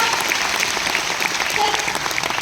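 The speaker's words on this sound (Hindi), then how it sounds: "एक बार जोरदार तालियां आप सभी के लिए।" Audience at a stage event giving loud, continuous applause, a steady crowd of clapping hands heard up close for a couple of seconds.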